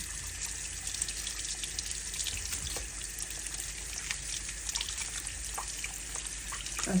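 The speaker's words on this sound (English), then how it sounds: "we let the water run right through it so that we can able to peel it" Tap water running over plantain to loosen its peel in a kitchen sink: a faint, steady stream and trickle with small splashes, no voices.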